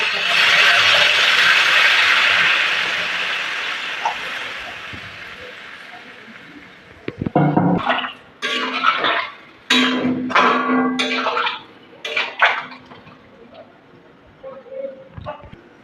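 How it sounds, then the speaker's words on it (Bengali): Water pours into a curry pan with a loud, broad rushing hiss for several seconds, then fades into scattered clinks and knocks of utensils, with someone speaking over the later part. "এবার জল দিয়ে দেবো পরিমাণ"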